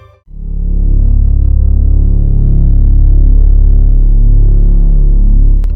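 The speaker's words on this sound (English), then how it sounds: "This is how the Taos hum sounds like." The Taos hum: a deep, steady low-frequency hum drones continuously, a throbbing rumble with faint higher overtones, loud and unbroken for several seconds.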